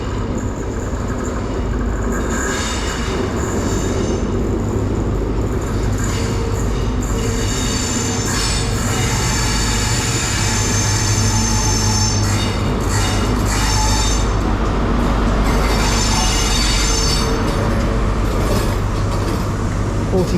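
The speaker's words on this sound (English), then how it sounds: "arriving now, sorry, is the 1214 Great Western Railway service to Cardiff Central from Plymouth" A Great Western Railway passenger service pulls into Bristol Temple Meads station, a loud, steady rumble of wheels and engine with high metallic wheel squeal running throughout, close by.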